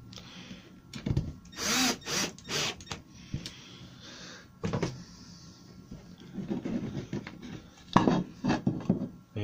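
Screws driven with a drill into a cabinet door to fit concealed hinges: short bursts of drill whirring separated by clicks and taps of handling, fairly close and moderately quiet, with no talk.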